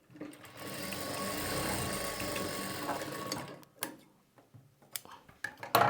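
Sewing machine stitching dots on a blouse front panel, a fast continuous mechanical whir for about three seconds, then short stop-start bursts and clicks.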